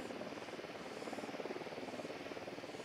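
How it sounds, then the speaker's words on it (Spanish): Helicopter approaching in the tactical shooter Ghost Recon, a steady rotor chop with dense low thrum running continuously at moderate level, close and unbroken throughout. "Se acerca un helicóptero."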